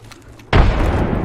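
A frag grenade detonates in the Apex Legends video game. A quiet moment gives way to a sudden, loud, close blast, and a thick roar lingers for the rest of the moment.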